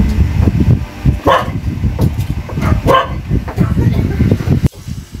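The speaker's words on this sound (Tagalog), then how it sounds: "Pasensya na at medyo maingay yung aming alagang aso." A pet dog barks several times in short bursts over garlic sizzling in hot oil in a wok and clattering kitchen sounds, with a voice talking nearby.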